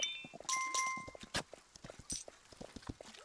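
Horse hooves clip-clop in a video game, a quick irregular run of hoof strikes on hard ground with a few brighter chime-like tones above, close and fairly quiet, no voices.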